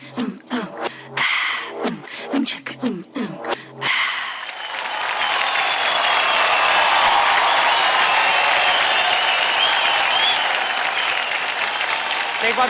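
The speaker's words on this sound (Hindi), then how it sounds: "एक बार जोरदार तालियां हो जाए" A dance show audience breaks into loud, sustained applause that swells and holds for several seconds after a brief stretch of voices and music, filling the room as a dense wash of clapping.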